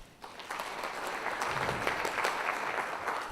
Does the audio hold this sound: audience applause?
yes